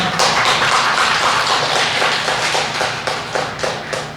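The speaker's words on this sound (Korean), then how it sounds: "박수 한번 하겠습니다" A church congregation claps together during a year-end Sunday worship service, a dense wash of hand claps that thins toward the end into a few separate, distinct claps.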